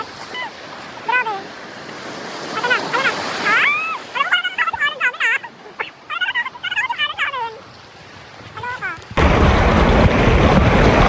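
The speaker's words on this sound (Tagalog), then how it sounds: "May malakas na alon!" Strong waves surge on a river during river tubing: a loud, steady rush of churning water breaks in suddenly near the end, after a stretch of excited shouting and high-pitched yelps from people.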